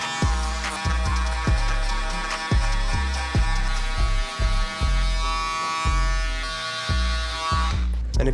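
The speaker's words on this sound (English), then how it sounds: "we're just gonna go ahead and start shaving up to that little line that we left behind" An electric shaver runs steadily while shaving hair up to a guideline for a taper fade, with repeated short strokes giving a pulsing rhythm over a continuous buzz, close and fairly loud, under background music.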